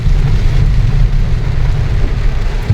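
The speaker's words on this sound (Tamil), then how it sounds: "மழை பெஞ்சிட்டே இருக்குது" Heavy rain pours down on a flooded road during a drive near Yercaud, a dense, steady hiss with a low rumble of the moving car underneath, continuous and loud throughout with no talking.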